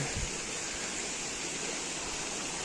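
A river runs steadily in the Belfast Hills near Ligoniel, a constant broadband rush of flowing water close by, with no voices.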